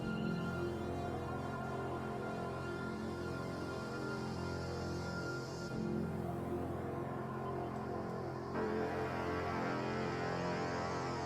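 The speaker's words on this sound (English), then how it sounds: "it's kind of a pad sound and it sounds like this" Sustained analog-style synth pad from an Analog Lab preset with no effects added, a dense, steady wash of tone holding for the full span, with the harmony shifting partway through and again near the end, fairly quiet and alone.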